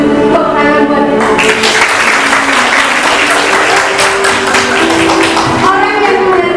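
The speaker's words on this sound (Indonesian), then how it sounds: "Tepuk tangan buat kita." An audience at a university teacher-training event bursts into dense applause after a short spoken lead-in, the clapping loud and sustained for several seconds before a voice returns.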